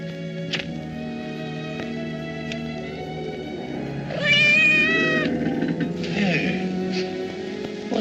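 A cat meows repeatedly, with a drawn-out, wavering cry standing out in the middle and shorter meows around it, over a steady low background hum.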